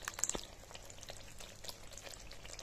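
Whisked yogurt hitting hot oil and spice paste in a pan for a vegetarian doi potol curry, bursts of sharp crackling sizzle settling into steady frying with scattered pops, no talking.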